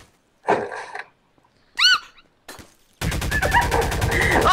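Gunfire from a sniper assault rifle in Garry's Mod, a few sharp isolated shots followed by a dense burst of rapid automatic fire, loud and close, with no talk.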